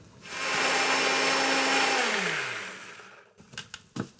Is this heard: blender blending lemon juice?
yes